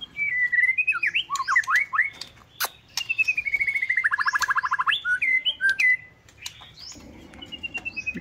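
A white-rumped shama songbird sings close by in a lively run of varied whistles, rapid rising and falling trills and sharp squawky chirps, loud and clear, with no talk.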